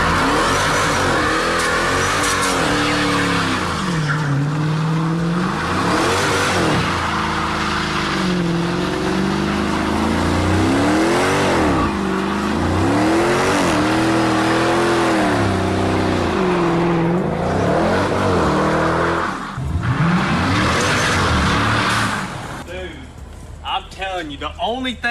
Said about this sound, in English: Dude, this is the best burnout I've seen so far.